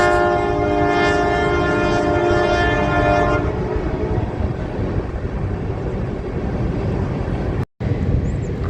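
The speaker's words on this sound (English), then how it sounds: "So the train is on a different part of the bridge." A train sounds a long horn, then rumbles heavily and continuously nearby as it crosses a bridge at Harpers Ferry, a deep rolling roar that cuts out abruptly near the end.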